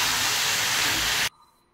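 Chicken with tomato, turmeric and salt fries in a hot pan, giving a loud, dense hiss that runs for over a second and then cuts off abruptly, leaving near silence.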